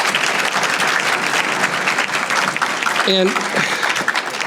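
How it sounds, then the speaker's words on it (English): Steady, fairly loud crowd applause fills a business conference room after speakers are thanked, dense clapping throughout, with a brief spoken word cutting in near the end. "Give them a round of applause."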